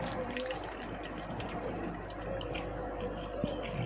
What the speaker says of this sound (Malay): Okay, kita ambil sedikit air aquarium.